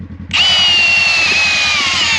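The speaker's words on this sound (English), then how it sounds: "I drill down" Power drill spinning its bit down into soil in a bucket with a hole in the bottom to collect a dirt sample, starting abruptly and whining loudly and steadily up close for about two seconds.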